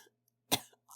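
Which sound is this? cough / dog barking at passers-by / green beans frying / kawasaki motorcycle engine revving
cough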